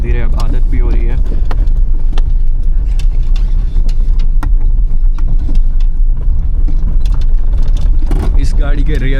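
A 27-year-old Maruti 800 with rear leaf springs climbs a hill road, its small engine giving a steady, continuous drone and low rumble close up throughout, with someone talking over it.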